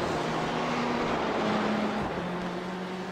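GTE race car engines, including a Porsche, drone continuously in a sim race at Watkins Glen. Several overlapping engine tones hold and shift pitch together as the cars run side by side, with no talk over them.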